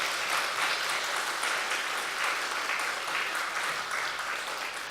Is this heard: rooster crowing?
no